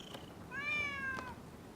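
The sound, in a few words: stray cat meowing in video game Rise of the Ronin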